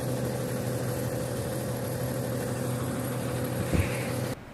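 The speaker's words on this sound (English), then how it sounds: "as much as Floyd loves the sound of an idling truck" An idling truck engine holds a steady, low rumbling drone with an even, constant level, then cuts off abruptly near the end.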